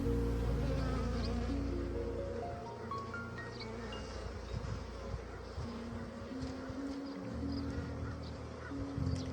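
A honeybee swarm buzzes at an apiary, a continuous low hum of many bees close by, with faint extra noise over it and no speech.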